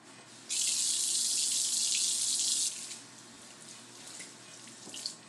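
An apple being rinsed under a running kitchen tap, a steady rush of water lasting about two seconds before it shuts off, leaving faint handling noises.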